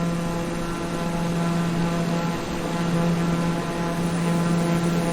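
A small airplane engine drones in flight with a steady, buzzing propeller hum that stays loud and even throughout, with no talking.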